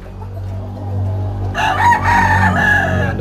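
Imported chickens on a poultry farm, with a rooster crowing loudly and close by in one long drawn-out call over a low background hum.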